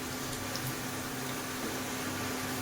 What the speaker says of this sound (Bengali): এইভাবে আমি লাল লাল করে ভেজে তুলে নেব